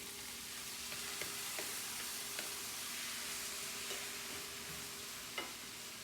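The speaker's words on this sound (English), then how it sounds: "Adding in the crawfish" Crawfish hitting a hot pan for a baked crawfish, crab and spinach pasta give off a steady, moderate sizzle and fry hiss, with a few faint clicks and clinks of stirring scattered through.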